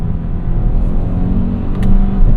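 Interior cabin sound of a 2025 Kia K5 GT under acceleration: a steady, loud low engine drone with rumble that swells toward the end as the revs climb, with no voices.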